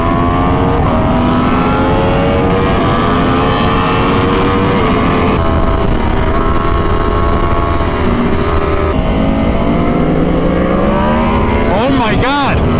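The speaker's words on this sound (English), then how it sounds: "This bike picks up so good!" An Aprilia RSV4 sport bike roars along a racetrack on a track day, its engine droning loud and constant through the gears and climbing in pitch near the end, with wind noise and a rider's voice faintly mixed in.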